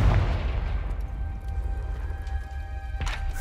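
Confringo blasting spell from the Hogwarts Legacy video game, a deep booming explosion with a rumbling low-end tail that swells again near the end, heard alone without any talking.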